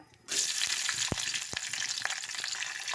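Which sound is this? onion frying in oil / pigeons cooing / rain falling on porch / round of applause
onion frying in oil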